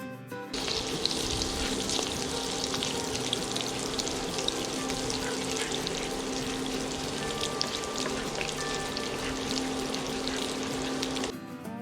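Cooking oil with a little butter sizzles steadily in a frying pan for a keto pork and mushroom stir fry, a constant close crackling hiss without talk.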